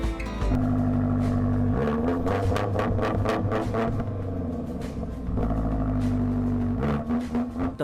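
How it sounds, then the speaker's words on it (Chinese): A damaged BMW X5M SUV, missing its bumper and a headlight, rumbles and revs nearby, its engine note rising and falling in steady pulses with no talking. "小哥已经迫不及待想要体验驾驶这款大型 SUV 的乐趣"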